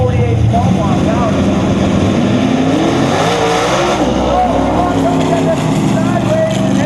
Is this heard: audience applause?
no